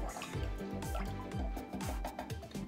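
Lye water pours and drips into a cold process soap mixture, with repeated small splashing dribbles at close range under a low, steady background.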